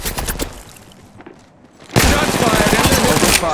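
Video game firefight with bursts of rapid gunfire, a few scattered shots first, then a brief lull before a loud, sustained volley of automatic fire close by.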